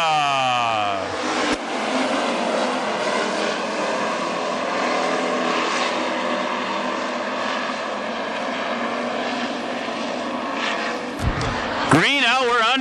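WISSOTA street stock race cars roar off at the start of a heat at Granite City Speedway, a loud dense pack of engines building after a brief pause, with an announcer talking over the field.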